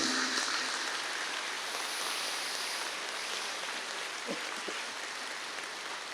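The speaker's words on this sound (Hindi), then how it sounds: "एक बार सब एक दूसरे के उत्साहवर्धन में तालियों की गड़गड़ाहट कर रहे हैं।" Sustained applause from a large audience at a religious centenary festival, a dense, even wash of clapping that holds steady from start to finish with no voices above it.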